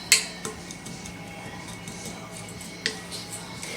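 Dry cobbler topping with almond flour is mixed in a bowl, with a few sharp utensil clinks and scrapes against the bowl over a quiet background.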